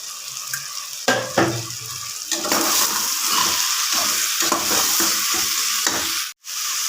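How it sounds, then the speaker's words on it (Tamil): Chopped mushrooms sautéing with tomatoes for mushroom biryani, a sharp sizzle as they hit the hot pan, then steady frying with repeated scraping stirs and a brief pause near the end. "நம்ம பிரியாணிக்கு தேவையான மஷ்ரூமை வெட்டி வச்ச மஷ்ரூமை போட்டு கொஞ்சம் நல்லா வதக்கி எடுத்துக்கணும்"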